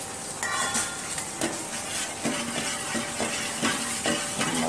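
Green cardamom, cumin, cloves and black cardamom roast in hot oil for Kashmiri rogan josh, a steady crackling sizzle with frequent stirring scrapes and light clinks of a spoon against the pan.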